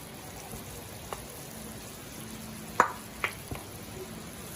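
Garlic and onions sauté in a pan with a soft, faint background sizzle, punctuated by a few sharp clinks and scrapes of a utensil against the pan.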